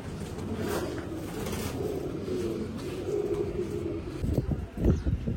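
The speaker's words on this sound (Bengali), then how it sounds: "দেখতেই পাচ্ছেন, এখানে অনেকগুলো কবুতর" Pigeons, a loft of racing birds, cooing in low rumbling phrases close by, with some shuffling and a few louder knocks near the end.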